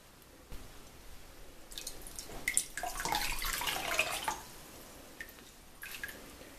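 Water drips and splashes softly close by as an overspun yarn sample is wetted, building into a brief trickle before easing to a few scattered drips.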